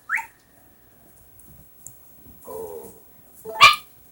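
Puppies in the farming video game Harvest Moon: A Wonderful Life give a few short, sharp yips and barks with quiet gaps between them, the last bark the loudest.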